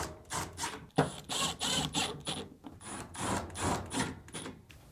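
Close, rhythmic grinding bursts as screws are driven into the lint duct of a Samsung dryer during a rear drum assembly replacement, each burst repeating in quick succession with short pauses between.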